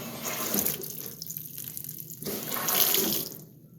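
A GE belt-drive washing machine fills with water on a deep fill setting, a steady close rush of flowing water that surges and eases over a few seconds before cutting off near the end.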